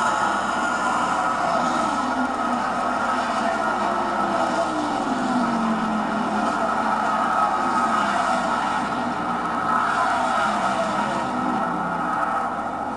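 NASCAR stock cars cross the finish line of the Brickyard 400 at Indianapolis, their engines a continuous loud roar with a rising and falling pitch as cars pass, no voices over it.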